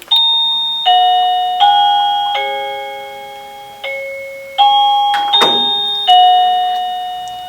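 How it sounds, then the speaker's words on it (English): An electronic doorbell plays a chiming multi-note melody, each tone ringing out and decaying, loud and close with no voices. "I have a doorbell that I bought from Amazon."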